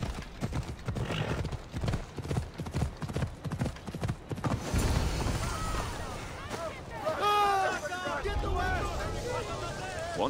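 In Assassin's Creed Odyssey, horse hooves clip-clop in a quick rhythmic run, then a horse whinnies, with wind rushing past and a voice speaking over it.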